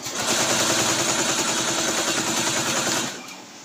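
A computerized embroidery machine stitches a cutwork design for a saree, giving a rapid, steady mechanical chatter at close range before it slows and stops near the end, with no talking.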